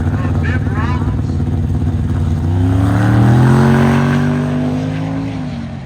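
A 1979 Camaro and a wagon launch from the starting line at a drag strip, engines roaring loud and close as revs climb steadily together, with an announcer talking over them.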